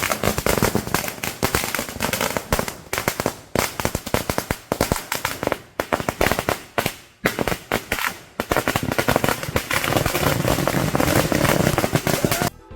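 Firecrackers burst outdoors in long, dense crackling volleys at a Vishu celebration, loud and rapid with short gaps between the rolling strings of bangs.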